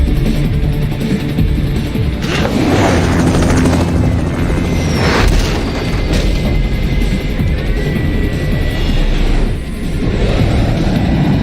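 A helicopter in the video game Metal Gear Rising: Revengeance thunders close by, its rotor a loud, continuous churning roar mixed with whooshes and a crash-like burst, no talk.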